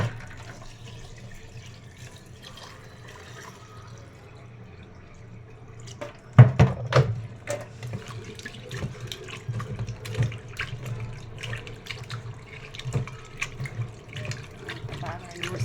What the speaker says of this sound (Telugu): దీంట్లో కొద్దిగా సాల్ట్ వేసుకొని కడుక్కుందాం.